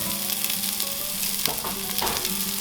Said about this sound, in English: Saute and mix well to infuse the flavor.